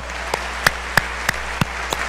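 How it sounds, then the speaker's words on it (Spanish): A church congregation claps in a slow, steady rhythm, six distinct hand claps spaced evenly over a quiet room background with no talk. "Denle el aplauso al Señor"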